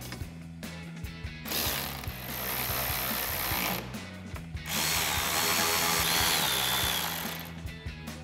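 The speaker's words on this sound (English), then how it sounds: "And then we'll tighten that down with our 10mm socket." A power tool drives a 10mm socket to tighten the original hardware on a 2009-2018 RAM 1500 headlight install, with two sustained loud whirring runs broken by brief ratchety mechanical clicks and pauses.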